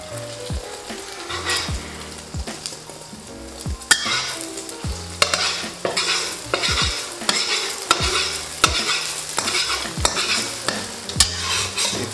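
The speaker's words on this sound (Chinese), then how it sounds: "再翻炒一下" Beaten egg stir-fries in a wok with a steady loud sizzle, punctuated by repeated scraping clanks of a spatula against the metal in an irregular rhythm, close and clear with no talking.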